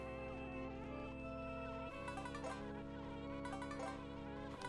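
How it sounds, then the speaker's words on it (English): Droning, buzzing bees hover in the video game Banjo-Kazooie, a continuous insect-like whine layered over steady game music with no voices. "I'm actually running straight through the bees."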